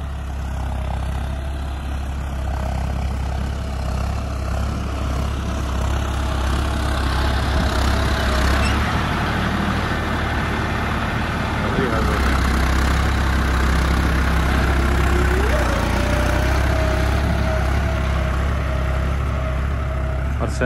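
A John Deere 5405 4WD tractor engine runs steadily with no load, a tiller attached, a heavy low rumble with a constant mechanical drone, close by and continuous throughout.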